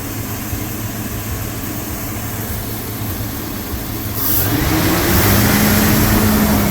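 A 2000 Chevy Tahoe V8 runs with its intake and air box removed and the MAP sensor unplugged, a steady rough idle that rises to a louder, higher-pitched hum partway through, heard up close.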